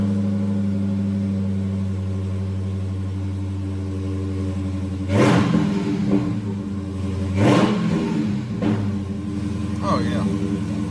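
An idling Hellcat engine with a ported 99mm throttle body is blipped twice into loud, short revs, then a smaller third rev, with a steady low rumble in between.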